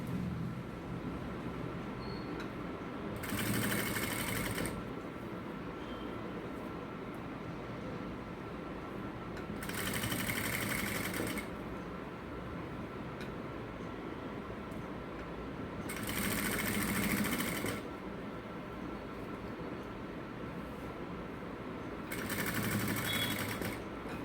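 A sewing machine stitches the neckline of a blouse in four regular bursts of fast, steady whirring, separated by quieter pauses, with no voices.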